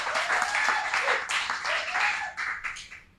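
Audience applause for a guest named Bernat after talk of his Olympic struggle, a dense steady clapping throughout with a voice briefly audible over it.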